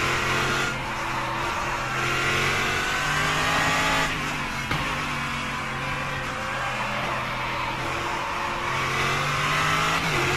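A stock car's engine drones steadily at high revs during a race in the rFactor simulator at Hidden Valley, with shifting pitch as it accelerates and brakes, sustained and loud throughout with no voices.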